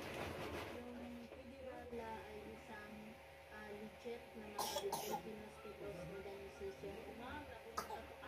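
A young child coughs indoors at home, giving a couple of short, sharp coughs amid background murmuring and a low steady hum, with people talking nearby.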